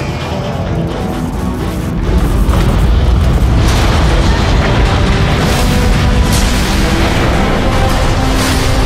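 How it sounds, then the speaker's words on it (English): A neutron gun powering up in the video game Transformers: Fall of Cybertron: a loud, steady roar of heavy booming and crashing that swells after a couple of seconds and stays dense and powerful. "The neutron gun is activating!"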